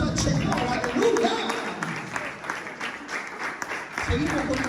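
A church congregation at a Sunday service claps and cheers for the Lord, a loud crowd applause that swells, thins out in the middle and rises again, mixed with voices calling out.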